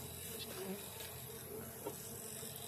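A steady, dense buzzing of many stingless bees fills the air, close and continuous, with faint hiss underneath.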